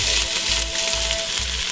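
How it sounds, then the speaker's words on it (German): Onions and garlic sizzle and fry steadily in a pot, a continuous close hiss with a faint tonal whine and periodic low thumps from stirring, no voices. "So, zuerst dünsten wir die Zwiebeln und den Knoblauch an."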